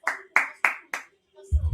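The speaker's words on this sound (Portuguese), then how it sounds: "Ó, palmas ao planejamento. Palmas a esse planejamento." A single person claps four times, sharp, close and evenly spaced, followed by a pause and the start of a low voice.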